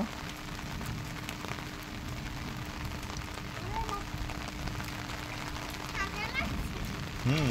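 Steady rain patters on a surface throughout, a dense hiss with faint voices of children playing in the rain talking beneath it.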